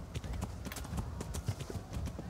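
Rhythmic horse hoofbeats in the video game Kingdom Come: Deliverance trot steadily and close by, a quick clip-clop pattern repeating evenly throughout with no talking.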